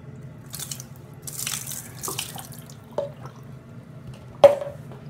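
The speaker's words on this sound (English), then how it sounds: "Okay, I just dumped a water on my head." Water dumped over a person's head, heard as splashing and trickling close by with scattered drips and a couple of sharper splats near the end, no talk.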